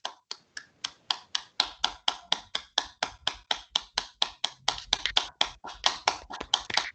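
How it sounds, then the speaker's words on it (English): Over an unmuted webinar line, a single pair of hands claps in a crisp, evenly spaced rhythm, about thirty sharp claps close to the microphone, welcoming a speaker. "I request Ruchi ma'am to unmute everyone for a second to welcome me with a round of applause"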